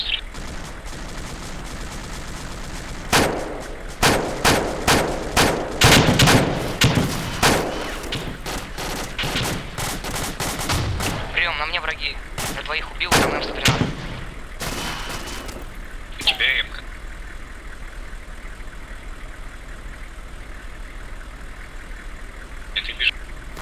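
Bursts of gunfire in ArmA 2 during a team-versus-team match, with rapid volleys of shots, scattered single cracks and a few later bursts over a steady engine-like background drone, and voices heard at times.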